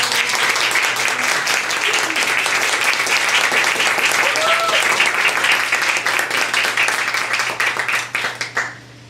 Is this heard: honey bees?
no